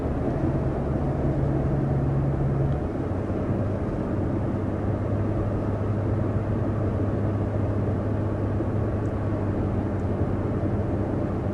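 Steady low road and wind drone inside a 2023 Chevy Colorado mid-size pickup cruising at highway speed, a constant broadband rumble with a faint low tone early on, no talking.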